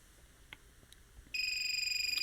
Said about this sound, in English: It's outside the optimum zone, so we get a buzzer.